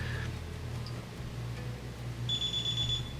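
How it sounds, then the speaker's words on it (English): A security alarm system beeps faintly as a door sensor zone opens, the tone sounding briefly and then holding steadily near the end, over a low hum and background noise. "you can hear the system beeping as I open the zone"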